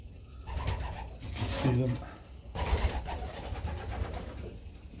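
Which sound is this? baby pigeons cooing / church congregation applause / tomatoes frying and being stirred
baby pigeons cooing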